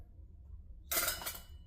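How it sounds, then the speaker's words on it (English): Cooked potatoes dropped into a glass canning jar make one quick, bright clinking rattle against the glass after a quiet moment. "Okay, and we're just going to fill the jar."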